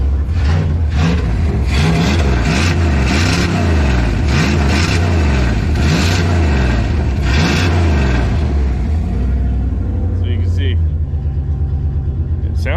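A V10 engine in a mini monster truck build revs hard and loud close by in repeated surging pulls, then settles toward a steadier idle near the end.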